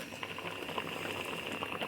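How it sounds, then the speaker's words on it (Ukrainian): A pot of homemade tomato paste boils on a low flame, giving a steady, soft bubbling and popping patter that stays quiet and continuous throughout. "після закипання треба прокип'ятити на невеличкому вогні"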